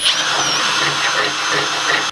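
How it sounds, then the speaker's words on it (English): A power drill bores out a hole in the metal frame of a lawn mower canopy, giving a steady, loud whirring grind that runs without pause for about two seconds and then cuts off abruptly. "the hole I was planning on going through is just a tad too small, so we're going to have to drill that out too"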